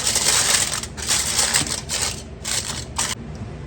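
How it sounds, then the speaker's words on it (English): Aluminum foil crinkling and rustling as it is handled and laid in a layer inside a crockpot, with bursts of crisp crackling close by and no talking. "I'm going to put a layer of aluminum foil"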